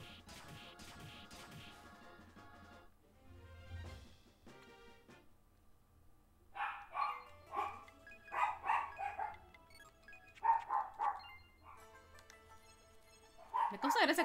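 A person imitates a dog barking, giving a series of short yapping woofs in bursts, close and fairly quiet, after some earlier speech and game sounds.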